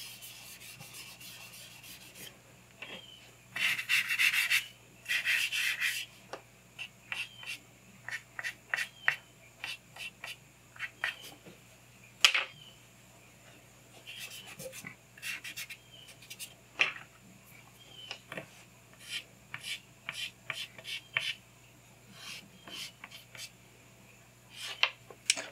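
Charcoal on paper being erased and rubbed in a face drawing: close, dry scratchy strokes in irregular bursts, some quick and dense, others spaced apart, over a faint steady hum with no talking.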